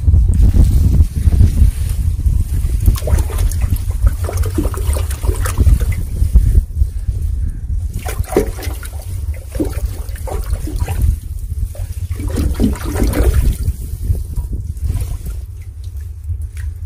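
Water gushes steadily from an irrigation motor pump outlet in a village field, a loud continuous splashing rush with no talk over it.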